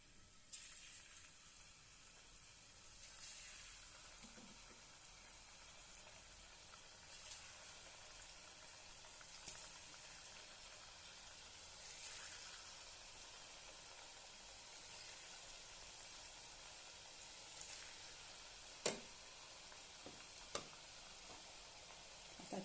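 Long strips of crisp rice flour chips frying in oil over medium heat, a steady soft sizzle with faint stirring clinks and a couple of sharper taps near the end.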